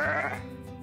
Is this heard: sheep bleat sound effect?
yes